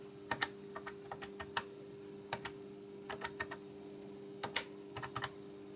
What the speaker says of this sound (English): and then I type in the number,